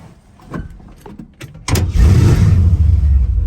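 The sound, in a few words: old pickup truck engine starting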